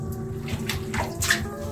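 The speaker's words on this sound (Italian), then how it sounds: "guardate come zampilla fuori bene l'acqua." Water spurting from the rock in an old abandoned mine gallery, a steady close rushing spray with splashing bursts over a low hum, heard alone without talk.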